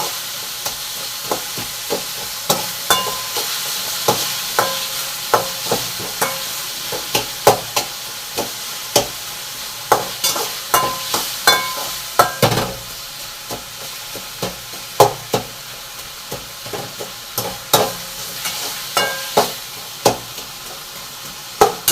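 Tomatoes sauté with salt in a pan for urundai kulambu, a constant close sizzle broken by a steady run of scraping, tapping spatula strokes, with no talk.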